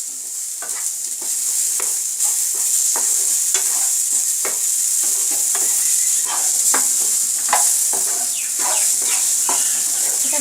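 Spices fry and are stirred in a pan for a Bengali fish-head dish, a loud steady sizzle with repeated scraping strokes of a spoon close by.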